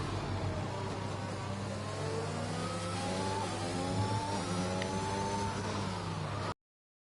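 A racing video game car brakes hard into a corner on the final lap, its locked tyres squealing in a rising, sustained whine layered over a loud revving engine, with no voices.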